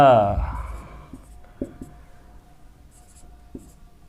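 Numbers are written out during a maths lesson on logarithms: a few soft, scattered scratchy taps and strokes, close by, after a brief voice at the start.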